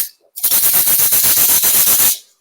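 A tumbler cup being scraped to prep its surface: a harsh, rapid, rhythmic rasping burst lasting about two seconds, loud and close, with near-silence before and after.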